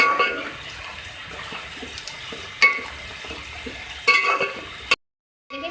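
Sliced onions fry and sizzle in hot oil for chicken biryani, a steady close crackle with scraping stirs at a few moments before a sudden cut to silence.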